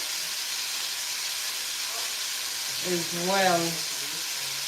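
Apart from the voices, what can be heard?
meat searing in a pan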